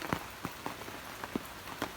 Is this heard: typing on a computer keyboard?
no